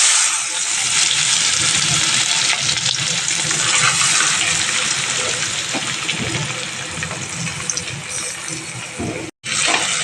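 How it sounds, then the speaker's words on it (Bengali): Mourala fish dropped into hot oil in a pan, giving a loud, steady broadband sizzle that fills the clip close to the microphone, with a brief break near the end. "তেলটা আমার গরম হয়ে গেছে,"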